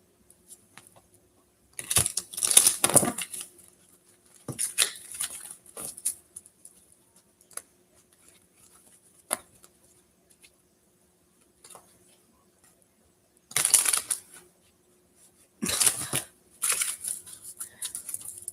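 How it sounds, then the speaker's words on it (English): Tarot cards are shuffled in short, soft bursts of riffling and patter separated by quiet pauses, close and fairly faint. "Do you ever just shuffle like this and just go"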